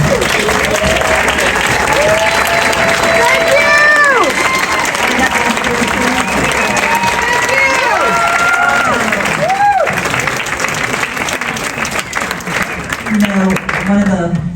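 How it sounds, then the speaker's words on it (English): Audience applause for event sponsors at an arts fundraiser: sustained clapping from a large crowd with scattered cheers and whoops, loud and steady for about fourteen seconds, easing slightly toward the end. "please stand up so we can give you a round of applause"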